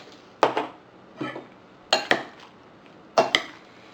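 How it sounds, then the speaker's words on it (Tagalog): Crab filling and breadcrumbs mixed in a bowl for rellenong alimasag, with a utensil clinking and scraping against the bowl in three short paired bursts, close and clear with no talk. "Once na malagay yung breadcrumbs, hahaluin lang natin to."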